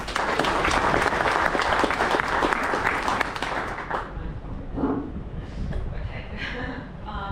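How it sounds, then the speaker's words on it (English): Audience applause at an insect repellent company's presentation, loud and dense for about four seconds, then thinning into scattered claps and a few faint voices as it dies away. "Big round of applause if I can, please."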